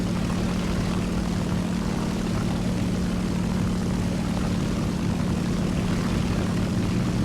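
Steady, loud drone of a World War II-era propeller aircraft engine in the combat flight game War Thunder, a constant tonal hum holding unchanged throughout with no voices.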